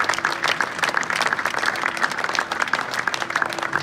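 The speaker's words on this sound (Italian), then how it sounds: "vorrei un applauso anche per Stefano, oltre che per Franco." An audience applauds steadily, a thick and even rush of many hands clapping that keeps going at a constant level.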